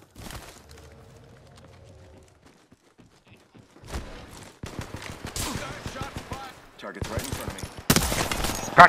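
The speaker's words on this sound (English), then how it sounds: "Firing the smart bullet." Smart bullet weapon fire in the Apex Legends video game: a quiet opening, then loud clusters of rapid shots and impacts that grow denser toward the end, with some voices mixed in.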